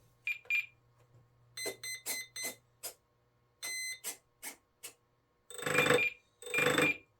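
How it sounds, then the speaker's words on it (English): A warning tone from an RC plane's ESC, an Arrows RC Edge 540 with one wire undone and prop removed, sounds as a series of short tonal beeps in irregular bursts, ending with two louder, buzzier pulses close by. "if you hear that, sure enough, one of your ESC's wires have come undone"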